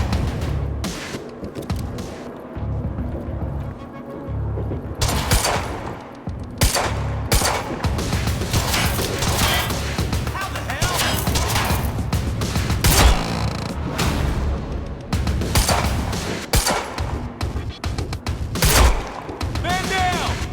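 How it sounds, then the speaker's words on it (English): Rapid bursts of video game gunfire from Quantum Break crackle almost continuously, loud and close, with scattered booms and occasional voices mixed underneath. "You heard the gunfire."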